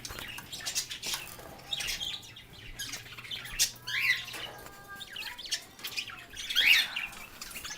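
Pet cockatiels and parakeets squawking and chirping indoors, a series of sharp, fairly close calls and tweets repeating irregularly over a steady low background hum.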